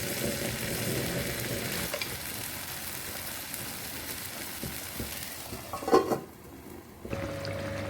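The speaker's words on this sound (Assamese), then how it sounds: "এতিয়া মই মাছ কেইপিচ দি দিলোঁ" Pieces of hilsa fish fry in a pan for a mustard curry, giving a continuous close sizzle with faint stirring and a brief clatter of a spoon near the end.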